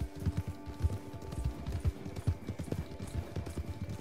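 Horses gallop in the video game Red Dead Online, a steady run of hoof clip-clops close by with a fast, even rhythm, carrying on without a break.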